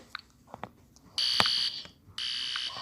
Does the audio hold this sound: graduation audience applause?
no